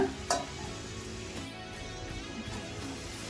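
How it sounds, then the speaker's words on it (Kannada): Potato and brinjal (eggplant) frying in oil in a pan give a soft, steady close sizzle, broken by a couple of brief clicks of a utensil or lid. "ಬದನೆಕಾಯಿನೂ ಎಣ್ಣೆಲೆ ಬಾಡಿಸ್ಕೋಬೇಕು"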